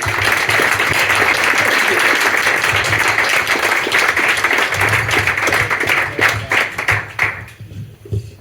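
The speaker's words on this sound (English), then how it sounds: "Round of applause, please" Audience applause fills a live retro computer games event hall, a dense steady wash of many hands clapping that continues for several seconds, then thins into scattered claps and fades out near the end.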